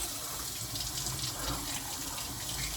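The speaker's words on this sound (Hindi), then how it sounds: "अब गर्म पानी में डाल के रख रहा हूँ ताकि थोड़ा सा नॉर्मल टेम्परेचर हो जाए।" Water runs from a tap to warm cold, stiff fingers, giving a steady, close splashing hiss that holds without a break.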